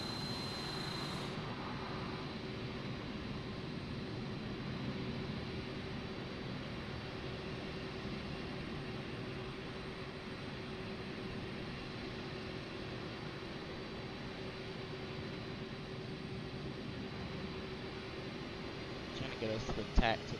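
In Microsoft Flight Simulator 2024, a Delta Airlines airliner taxis toward the runway with a constant, even engine drone and a low steady hum throughout, without any change in pace.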